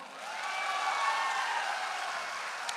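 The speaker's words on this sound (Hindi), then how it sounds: "अरे भाई ताली बजाओ" Hands clap together in a steady wash of applause from an audience at a motivational talk during the Maha Kumbh in Prayagraj, sustained and fairly even, with no voices rising above it.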